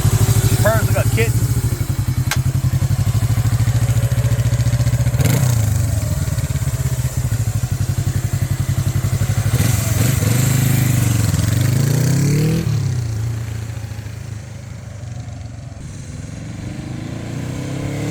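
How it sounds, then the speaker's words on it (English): A 1978 Suzuki GS400X motorcycle engine idles steadily and close by with a low, even rumble, giving a couple of brief blips partway through as a voice talks over it. "Purrs like a kitten."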